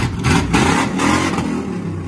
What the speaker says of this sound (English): give her a rev for the camera